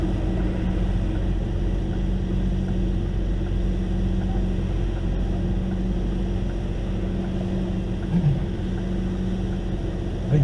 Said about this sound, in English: A shitload of traffic.